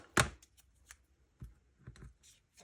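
Paper being cut for a handmade thank-you card, with a sharp snip near the start and a few quieter cuts and rustles later, close and alone with no talking.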